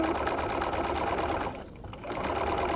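A sewing machine stitches a bucket hat's top to its crown over the seam allowance, a loud, steady, close-up whir that dips briefly in speed before picking back up.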